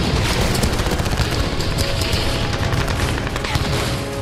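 Russian forces fire sustained bursts of gunfire at Ukrainian unmanned surface vessels in the Black Sea, a loud, dense, continuous rattle of automatic weapons and booms filling the whole stretch.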